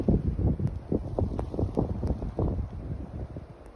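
Strong wind howls outside on a snowy night, a steady low roar with recurring gusts swelling and fading, close to the microphone and buffeting it, with no voices.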